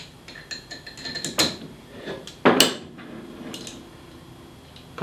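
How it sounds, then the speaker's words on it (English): A bolt being fitted while a switch is reassembled, heard as close metallic clinks and a couple of sharp knocks, with a few quieter rattles in between. "So we'll put our bolt in."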